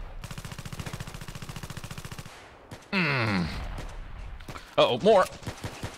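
Video game gunfire from an FN57 pistol or Honey Badger rifle in a sandbox shooter: a rapid automatic burst of evenly spaced shots, then a sharp blast and further impacts, with a voice speaking briefly.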